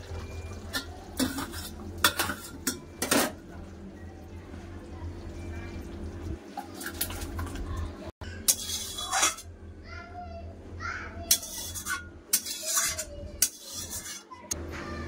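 A spoon scrapes and clinks against a pan while matar paneer curry is poured out, in short sharp bursts between stretches of talk and a voice.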